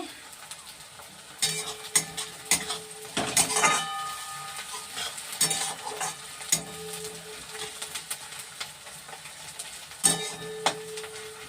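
Lotte fish frying in a pan in a village kitchen, with a soft steady sizzle broken by repeated scrapes and clinks of a spatula stirring against the metal pan.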